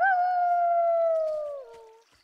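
Single wolf howl in The Wilds game, one long clear sustained call that slowly dips in pitch before trailing off, close and alone.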